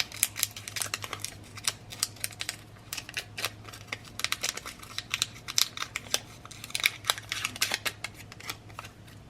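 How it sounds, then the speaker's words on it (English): Paper edges being crumpled by hand for a craft pocket page, a close, quiet run of crinkling and crackling bursts in an irregular rhythm for several seconds over a faint low hum. "we can crumple up the edges."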